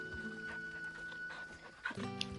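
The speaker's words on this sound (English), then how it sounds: "There's like a starving dog in front of me and I'm giving this one treats." Dog panting in the video game Final Fantasy 16, soft rapid breaths with a faint whimper, quiet under a steady game music drone.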